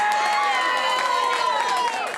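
A packed crowd at a county Democratic headquarters on election night cheers and shouts continuously, a dense roar of many voices with scattered whoops, close and loud throughout.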